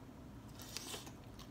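A quiet, close bite into cooked shrimp dipped in sauce, giving a brief soft crunch and some chewing that stand out faintly over low background noise.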